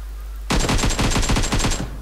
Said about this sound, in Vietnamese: Bắn gần đấy.